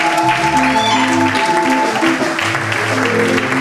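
A church congregation at a pastors' ordination service applauds and acclaims the Lord, a loud, dense, sustained wash of clapping and cheering with steady musical tones underneath.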